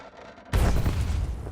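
A loud explosion in Star Wars: The Old Republic bursts in abruptly after a quiet moment, a heavy booming blast whose rumble holds on through the rest of the clip.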